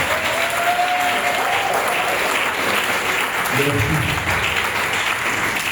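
A crowd at a spiritual retreat breaks into sustained, dense applause that fills the room steadily throughout, with a voice briefly speaking over the clapping.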